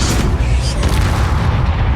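A Bombarda spell explodes in the Hogwarts Legacy video game, a loud, dense boom with heavy low rumble and a bright crackling burst that sustains through the whole moment.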